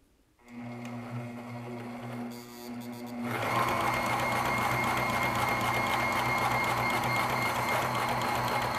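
A pedal-operated sewing machine stitches a seam on a concrete floor. After a quiet start it runs in a steady, loud, continuous whir with a rapid mechanical rattle, and nobody talks.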